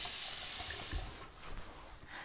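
A tap runs for hand washing, giving a faint, steady hiss of flowing water with no voices.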